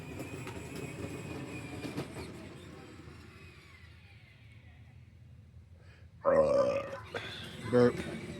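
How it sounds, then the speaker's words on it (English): A child gives a loud burp near the end, with a second shorter burst soon after, over low rumbling background noise. "Burp."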